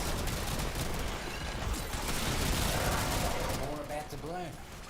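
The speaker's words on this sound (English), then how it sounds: "I'm firing so fast, I don't realize I'm running out of fucking ammo." Rapid gunfire from an archgun in the Duet Night Abyss video game, a dense continuous burst of shots under game sounds and a voice.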